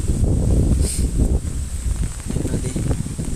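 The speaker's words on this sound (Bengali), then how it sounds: "বাতাস আর বাতাস।" Strong wind from Cyclone Remal roars across a riverside area in Bangladesh, a continuous loud gusting rumble buffeting close to the microphone.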